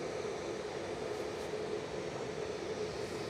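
Boeing 737 airliner arriving at Manchester Airport, a steady broadband engine roar at moderate distance that holds constant throughout, with no talk over it.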